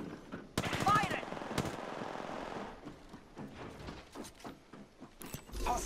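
Rapid automatic gunfire in the video game Apex Legends, with dense bursts of shots at moderate level, then scattered single cracks and pops, mixed with game voice lines.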